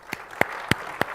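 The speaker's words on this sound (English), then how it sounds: "guys don't even know what it does yet, and you're already clapping" An audience at a tech conference keynote claps briefly: four distinct, sharp claps spaced evenly apart, fairly close and clear.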